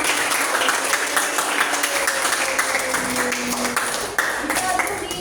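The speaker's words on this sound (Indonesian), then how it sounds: "Tepuk tangan buat kita semua" A group claps together at a gathering, dense continuous applause that stays loud and even throughout, with voices mixed in underneath.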